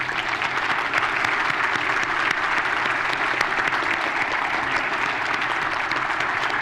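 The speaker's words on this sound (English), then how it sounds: "Let's give him a warm round of applause." An audience at a healthcare policy conference keynote in Oregon applauds as a state representative takes the stage, a dense, even wash of clapping that holds steady from start to finish.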